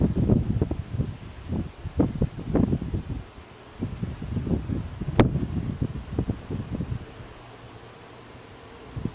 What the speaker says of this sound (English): it's getting windy too.